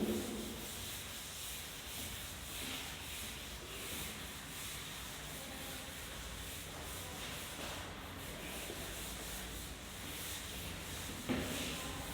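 A blackboard is wiped with a duster in a classroom grammar lesson, giving a steady, faint scrubbing rub that carries on for several seconds without pause, with no talk over it.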